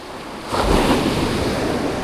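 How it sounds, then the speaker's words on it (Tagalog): Strong sea waves crashing at the shore, a steady windy surf roar that surges into a louder, nearby break about halfway through and then keeps churning. "Grabe lakas ng alon."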